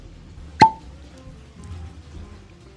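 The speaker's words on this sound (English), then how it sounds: "People over at Buffalo Trace know how to do a cork pop." A single sharp cork pop as the stopper comes out of an E.H. Taylor Small Batch bourbon bottle, a short hollow plop up close followed by quiet room noise.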